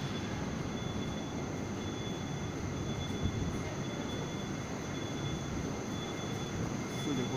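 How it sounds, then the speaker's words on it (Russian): A new Moscow metro train at Petrovsko-Razumovskaya station produces a steady low rumble and rolling wheel noise with a faint high whine that continues unbroken through the whole stretch, and no speech is heard. "Судя по всему, это новый поезд, и он пойдет в направлении станции метро Алтуфьево."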